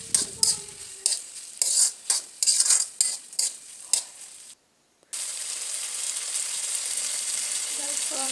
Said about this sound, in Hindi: टमाटोज को भी अच्छे से मिला लेंगे हम।